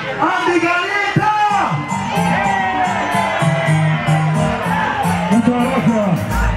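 A packed concert crowd at Sol Billares in Houston, Texas cheers, whoops and shouts continuously, with a low bass line thumping underneath and voices calling out over the noise.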